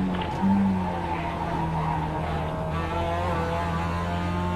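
A race car in a racing video game brakes hard into a corner, tires squealing in a sustained, loud whine over a droning engine, continuing through the whole stretch.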